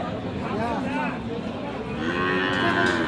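A Sahiwal cow moos loudly and close at a busy cattle market, with a long drawn-out call followed by a second rising moo amid crowd noise.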